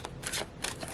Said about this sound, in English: I do like to do a shuffle as I'm drawing them.